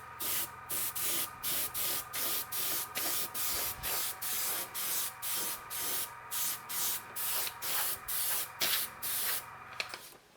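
Airbrush spraying color onto a cake to make a beach texture, a steady hiss pulsing in short regular bursts of about half a second, close and continuous for ten seconds with no talk.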